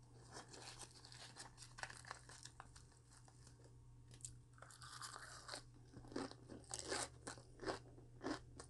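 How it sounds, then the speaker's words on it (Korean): Close, crisp crunching and chewing of raw cabbage and potato wrapped in a perilla leaf, with repeated bites and crackles heard quietly and alone, no talking. "깻잎에 생채소를 한번 싸 먹어볼게요. 양배추도 넣고 감자 생으로만 한번 먹어볼게요."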